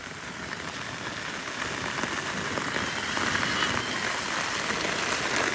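Steady, heavy monsoon rain pours down in Virar, a dense continuous patter that swells slightly louder toward the end, with no voices.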